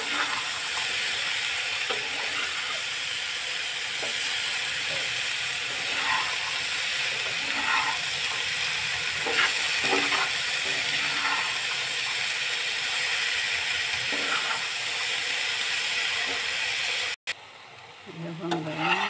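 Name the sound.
bitter gourd frying in a pan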